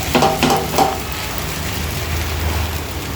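Polelu, a sweet stuffed flatbread, cooks on a pan over a low flame with a gentle, continuous sizzle and hiss, a few soft handling taps near the start.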